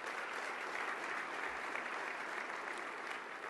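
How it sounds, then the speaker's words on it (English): A chamber of commerce annual meeting audience claps steadily, a dense even wash of applause from a large room that holds at a constant level throughout, with no voices over it. "let's give him a round of applause"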